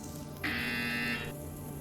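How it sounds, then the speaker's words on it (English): A steady electronic buzzer from the Aperture Science teleportation device in the VR game Portal Stories: VR sounds once for under a second, loud and sustained over a constant low background hum. "You will hear a buzzer."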